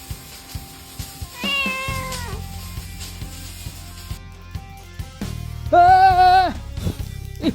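A house cat meows twice, each a clear, drawn-out call close by, the second louder and longer, with a low steady hum and small knocks underneath.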